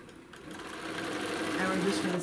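A sewing machine stitching around a quilt panel, its motor whirring steadily and rising slightly in speed over a couple of seconds, with a voice talking underneath.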